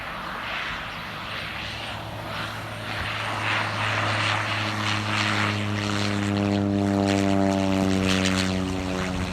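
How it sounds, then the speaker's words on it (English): A propeller airplane coming in to land on Maui drones steadily through the clip, its engine tone rising in pitch and growing louder as it approaches, over outdoor background noise with no talking. "we got a plane coming in."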